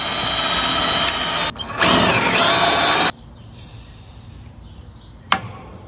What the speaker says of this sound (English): Hopefully my drill is still sharp.